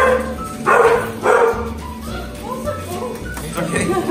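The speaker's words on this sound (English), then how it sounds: "These are friendly dogs." Dogs bark in a few short bursts, close by, mixed with people talking over a busy background.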